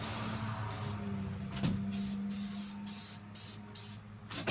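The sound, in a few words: spraying matte black spray paint on a bike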